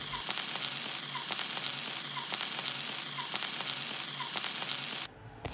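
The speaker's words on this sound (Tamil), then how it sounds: "ஒரு சின்ன தவாவில் கொஞ்சமாக கோகனட் ஆயில் விட்டு நம்மளோட ஃபிஷ்ஷை ஃப்ரை பண்ணி எடுத்துடலாங்க" Marinated masala fish frying in a little coconut oil on a small tawa, giving a steady, close sizzle dotted with sharp crackles before it cuts off abruptly near the end.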